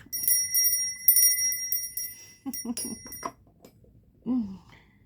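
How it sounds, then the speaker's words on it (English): Several bright, high bell rings in quick succession, with a brief sigh-like voice sound near the end. "Let's ring the bell of hope."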